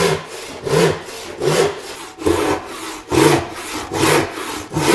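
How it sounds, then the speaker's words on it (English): A hand saw cutting through wood in steady back-and-forth strokes, about nine rhythmic rasping pulls, close and clear with no talking. "I'm going to let the saw cut where it wants to cut for several inches"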